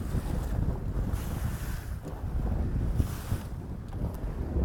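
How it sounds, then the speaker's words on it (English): Gusting wind and choppy water slosh steadily against a small fishing boat on open, deeper water, a continuous close roar with no voices. "Here's a wave."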